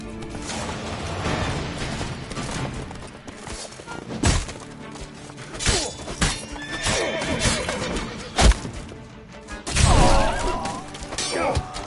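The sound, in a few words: horse Roach neighing and galloping in The Witcher 3 video game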